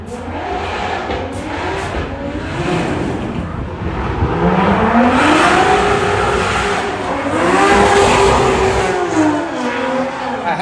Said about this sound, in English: Alexis Harry's car is wild.